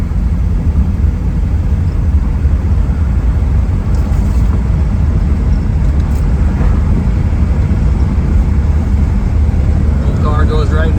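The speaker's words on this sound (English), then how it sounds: "Little car goes right down the road, pretty nice, folks." Steady interior road noise of a 1968 Chrysler New Yorker two-door hardtop cruising at highway speed, a constant low engine and tire rumble with wind roar and no break in level.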